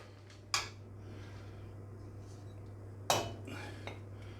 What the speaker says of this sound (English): let's dish some grey peas and bacon up